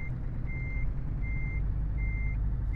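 A truck reversing in Euro Truck Simulator 2 with a Scania tuning mod, its backup alarm sounding four evenly spaced beeps over a steady low engine rumble.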